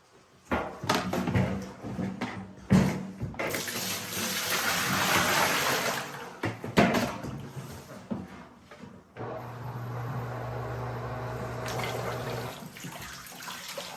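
Tap water running for rinsing wool after a vinegar soak, heard as bursts of gushing and splashing into a sink separated by short pauses, with handling knocks and clunks up close.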